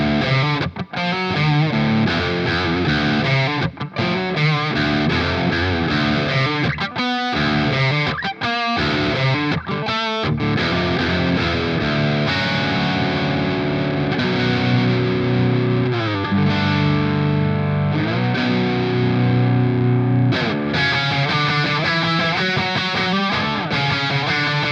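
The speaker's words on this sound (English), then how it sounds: "So let's try that through the Laney amp, which is an affordable solid state amplifier." Squier electric guitar played through a Laney solid-state amplifier on high gain gives dense, heavily distorted riffs and chords with brief stops, steady and loud throughout with no voice.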